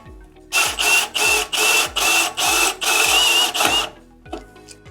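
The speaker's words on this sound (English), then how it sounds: "I'm going to start with my 1/2-inch core bit, core hole." A 1/2-inch core bit drills into a metal electrical box in loud, rhythmic bursts, about eight pulses of grinding whine in quick succession, then stops.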